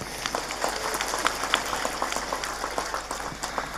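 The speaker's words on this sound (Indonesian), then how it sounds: "Saya minta tepuk tangan dulu dong." A crowd claps steadily, dense overlapping hand claps forming a continuous patter of applause with no speech on top.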